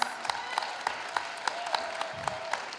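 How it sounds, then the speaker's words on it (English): Audience applause at a student climate competition panel, steady moderate clapping from a crowd with distinct sharper claps punctuating the wash at a fairly regular rhythm, heard somewhat distant and without speech. "let's continue to give them a round of applause"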